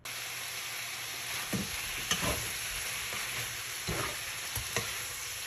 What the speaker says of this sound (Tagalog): igisa na natin to para lumabas yung mantika niya